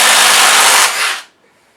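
A DeWalt 887 impact driver runs loud and close with a harsh, steady whir, then winds down and stops abruptly, leaving near silence.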